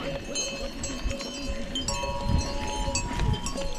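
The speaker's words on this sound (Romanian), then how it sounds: "Cum se aud clopotele la vacile astea" Cowbells clinking on grazing cows in a mountain pasture, a steady scatter of small irregular metallic rings at moderate distance over outdoor ambience with some low rustling.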